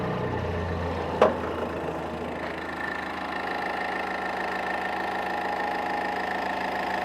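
Triple-cylinder 1700cc diesel engine of a side-by-side UTV with an open CVT, idling steadily with a low, even thrum close by, one sharp knock early on, otherwise continuous and unchanging.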